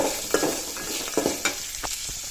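Onions frying and being stirred in a pan for curry leaves rice, with a steady sizzle broken by several sharp scraping strokes of a spoon, close and with no talk.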